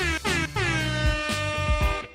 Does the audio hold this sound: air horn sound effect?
yes